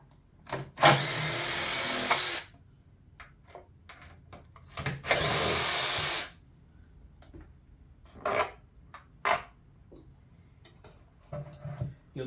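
Power drill backing threaded screws out of the handle on a Peavey SP5TI speaker cabinet: two sustained whirring bursts of about a second and a half each, followed by scattered clicks, scrapes and handling knocks.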